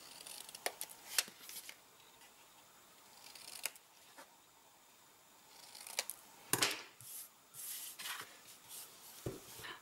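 Scissors snipping design paper points for a handmade perpetual birthday calendar, a few crisp close snips and paper rustles scattered across a quiet tabletop, with no voices.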